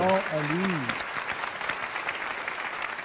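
Studio audience of a TV talk show applauding, a steady wash of clapping; a voice calls out briefly at the start over it.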